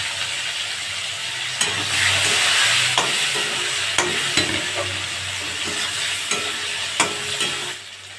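Chopped onion and tomato frying in hot oil with a little turmeric, for a home-style prawn and green jackfruit curry; a steady close sizzle with sharp scraping stirs of a spatula at intervals, no talk.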